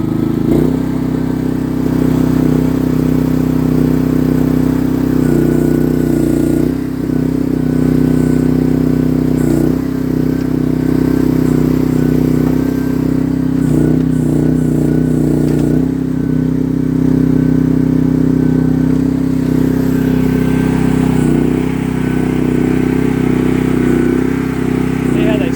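A used mini excavator's small engine runs steadily after a start with choke and throttle, a loud, constant low rumble with rattling and slight changes in pitch, while someone talks over it.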